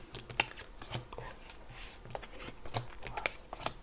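Tarot cards shuffled and drawn by hand, soft papery riffles and slaps with a few sharper flicks, close and fairly quiet, in a steady scattered rhythm with no talking.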